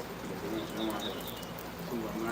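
Pigeons cooing in repeated low soft phrases, with other birds chirping faintly above, heard amid steady rainfall noise outside a house in Kingston.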